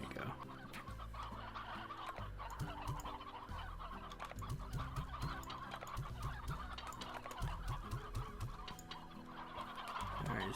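Chickens clucking in the Slime Rancher video game, busy overlapping clucks from a nearby flock with game music running steadily underneath.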